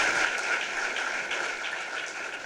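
An audience at a public youth event in Lékoumou claps in a dense, even wash of applause that holds steady for the whole stretch.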